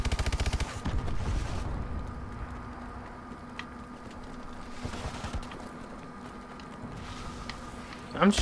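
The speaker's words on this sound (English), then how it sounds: "I'm just shooting at, like, at nothing." Gunfire in Call of Duty: Advanced Warfare, a loud rapid burst at the start and again at the end, with quieter scattered game noise and mechanical clatter between.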